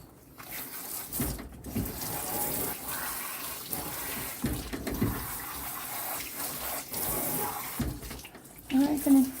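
Tap water running into a bathtub while a poodle is rinsed at home, a steady splashing flow that surges and dips as it is directed over the dog, with brief pauses.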